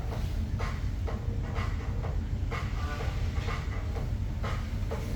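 A train at a station stop in Seoul rumbles steadily with rhythmic clickety-clack wheel beats and hiss, close and continuous with no talk.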